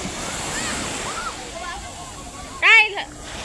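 Strong sea waves wash onto a beach in a steady surging roar, with people's voices calling out over the water.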